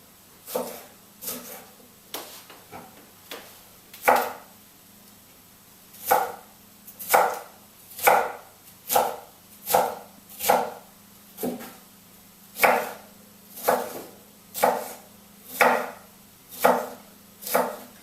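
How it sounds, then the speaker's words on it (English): A knife chops food into small cubes on a cutting board while raw guacamole is prepared with mushrooms and peppers, giving a steady run of sharp, close knocks in quick bursts with short pauses between them. "I'm going to cut it up into quite small little cubes"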